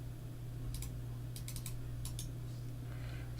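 Computer mouse buttons clicked several times in short bunches, clicks moderately close over a steady low electrical hum, no talking.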